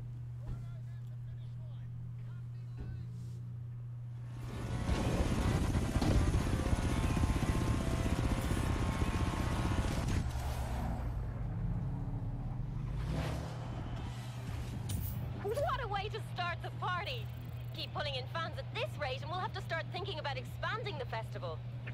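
Race car engines roar at the end of a race in the Forza racing game. A loud, dense engine roar holds for several seconds, then drops back, followed by rising and falling revs from passing cars.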